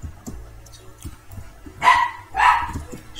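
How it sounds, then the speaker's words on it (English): A young poodle barks twice in clear, sharp bursts toward the end, after quieter background knocks and murmur, sounding moderately near within a room. "Oh, there's my dog barking."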